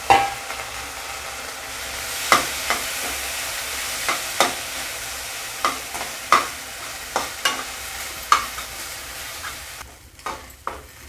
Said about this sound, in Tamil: அடுத்து இந்த ரவாவை இதிலே போட்டு வறுத்தரலாம்